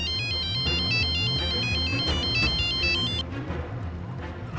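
A synthesized phone ringtone plays a repeating high melodic pattern over a pulsing bass line, loud and steady, then drops to a softer tail.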